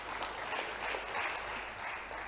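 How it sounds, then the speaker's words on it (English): Conference attendees at a Parish Development Model dialogue applaud a speaker named Julius, a steady, dense patter of many hands clapping for a couple of seconds without pause. "I think Julius deserves a bigger round of applause"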